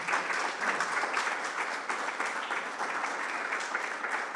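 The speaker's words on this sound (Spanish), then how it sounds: "Un fuerte aplauso." A crowd at the opening ceremony of a bird festival in Andalusia applauds steadily, with dense, sustained clapping at an even level throughout.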